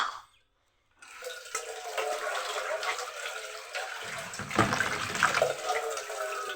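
Tap water runs and splashes steadily into a container after a brief silent gap, a near, continuous gushing with shifting pitch as it fills, no speech.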